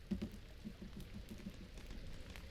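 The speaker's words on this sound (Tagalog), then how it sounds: "Uy, umuulan." Steady rain falling outdoors in a forest setting, a soft continuous patter of drops on surfaces with a few heavier low taps near the start, heard close and fairly quiet with no talking.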